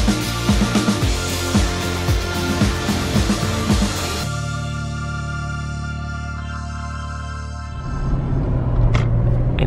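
A car driving along a road toward parking ramps at Universal Studios Hollywood, its engine rumbling steadily and close, with a brief shift in tone midway.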